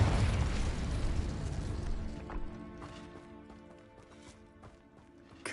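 Confringo spell explosion in Hogwarts Legacy, a heavy rumbling blast at the start that slowly decays into crackling debris and scattered small pops.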